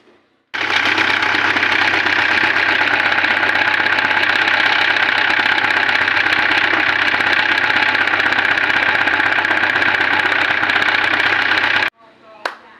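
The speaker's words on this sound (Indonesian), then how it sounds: "Begitulah kondisi suara mesin dari Toyota Hilux dengan kode mesin 1TR dengan kapasitas oli yang tersisa hanya 2 gelas." A Toyota Hilux with the 1TR engine runs with only about two glasses of oil left, giving a loud, steady, rattling mechanical drone that holds for about eleven seconds before cutting off.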